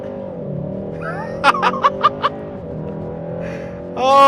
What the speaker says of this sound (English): So let's go ahead and see if that works. You can adjust the RPM and let go.